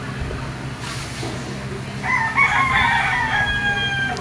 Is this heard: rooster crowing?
yes